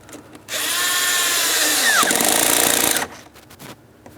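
A power tool whirs for about two and a half seconds, driving a hose clamp tight on the air filter housing hose of a 2003-2007 Cadillac CTS 3.6L V6, close and loud, then stops.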